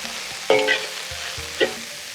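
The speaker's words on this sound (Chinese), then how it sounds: "把刚才切好的圆白菜丝放锅里翻炒" Shredded cabbage stir-fried in a wok with scallion and ginger: a loud continuous sizzle at close range, broken by a couple of brief scraping clatters of the spatula tossing it.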